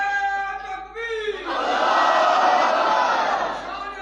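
A mosque crowd roars a loud, sustained unison response to a religious slogan chant at a live gathering, following a single voice's drawn-out call, the massed shout swelling and holding for a few seconds.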